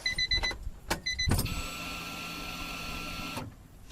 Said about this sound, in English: let's do that fuel pump one more time